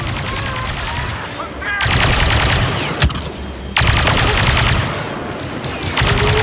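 Blaster gunfire in a Star Wars Battlefront 2 campaign firefight comes in loud rapid bursts with sharp single cracks between them, a dense volley pattern broken by short lulls, with shouted voices partly under it.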